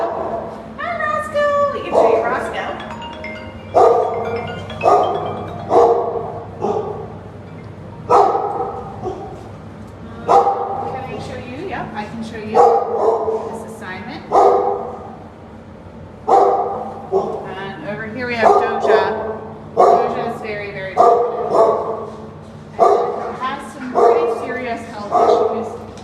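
A dog barks repeatedly in close, loud bursts with yips and whimpering whines between them, with people talking throughout.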